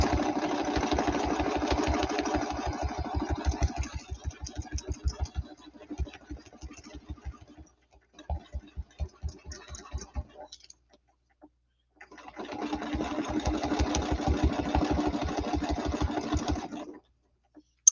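A sewing machine stitching a quilt block runs in close, rapid bursts of needle clatter, stopping and restarting several times with short pauses between runs.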